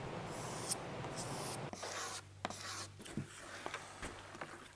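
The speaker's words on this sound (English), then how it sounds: "I'm gonna take a razor blade and I'm just gonna scrape the sides of this tank" Razor blade scraping oxidation off the sides of a vintage Yamaha dirt bike's metal fuel tank: dry rasping strokes, a continuous scrape and then several short separate scrapes, quiet and close with no talking.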